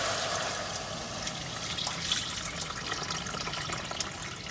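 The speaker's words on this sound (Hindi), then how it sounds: "उसके बाद आपने 2 लीटर पानी इसमें डाल देना।" Two litres of water poured into a pot for minestrone soup with chicken cubes, a steady close rushing, splashing pour that runs without a break from start to finish.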